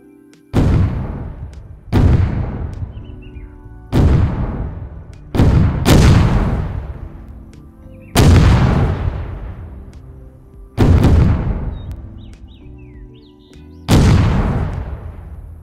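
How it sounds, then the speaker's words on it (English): Artillery strike from a DayZ mod, seven heavy explosions booming one after another every two seconds or so, each loud blast rolling off into a long decaying rumble, with no talk. "test out an artillery strike on 20 players"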